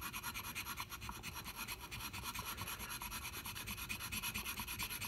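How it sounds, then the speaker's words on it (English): A Floyd Rose guitar top lock being sanded back and forth by hand, giving a steady, continuous rasping scrub with a fast repeating rhythm, close up, with no talking. "I'm just going to sand this using these two screws back and forth"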